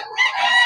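Rooster (stag) crowing at a poultry market in Bocaue, a short, loud, close burst of crowing that rises sharply and holds for under a second.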